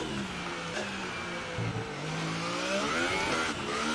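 A Formula 1 car's engine in a racing video game revs high and steady with shifting pitch through gear changes, a continuous loud buzzing drone without any talking.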